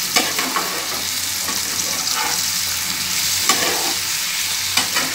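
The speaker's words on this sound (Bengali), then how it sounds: "আর এবার একটু সামান্যভাবে নাড়িয়ে নিচ্ছি।" Veg biryani with nutmeg, mace and mint leaves being stirred in a hot pot: a steady loud sizzle and frying hiss close by, broken by a few sharp spoon scrapes, with no voices.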